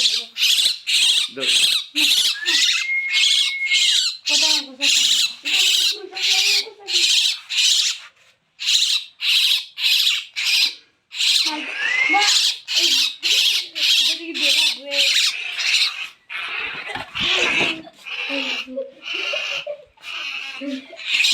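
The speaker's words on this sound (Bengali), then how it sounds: "পাখির কলতান খুব ভাল লাগে" Birds call in rapid repeated bursts, loud and close, with harsh squawking notes in a fast rhythm broken by short pauses. Some brief lower sounds mix in beneath the calls.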